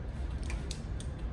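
Scissors snip through a hand-drawn shrink plastic sheet for jewelry making, giving a few short close crisp cuts over a dense low rumble, with no voices.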